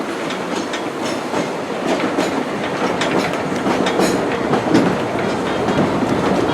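Disneyland Railroad train running on its rails during a grand circle tour, a continuous rumbling roll with faint rhythmic clickety-clack of wheels, steady and moderately loud throughout.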